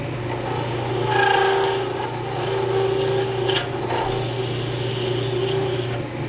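A wood lathe spins a pen blank on its bushings, a steady low motor hum with a constant whine, overlaid by light intermittent scraping and tool contact, close and moderately loud with no talking.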